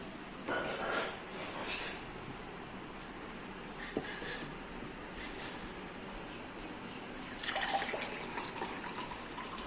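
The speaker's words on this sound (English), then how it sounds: "So first we will pour water in all the glasses." Water poured from a jug into drinking glasses, with two splashing pours, one early and one near the end, separated by quieter room noise.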